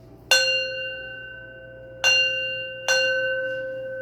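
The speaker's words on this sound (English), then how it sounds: "I'm going to ring my bell and we're going to get started" A handheld bell struck three times, each strike ringing out clearly with a bright tone and a long decaying sustain, spaced unevenly, in a quiet room with no talking.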